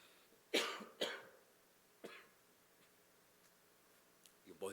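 A person coughs a few times, with two close, sharp bursts followed by a softer third and a faint one at the end, quiet and near during an outdoor early-morning church prayer service in hot, dusty wind.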